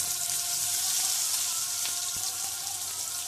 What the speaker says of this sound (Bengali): আমি আজকে তেলে ভাইজা করব।